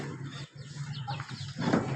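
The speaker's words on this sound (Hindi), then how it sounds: "ये मुर्गी है हमारी" A hen on a farm gives a few quiet, short clucks against low, steady background noise.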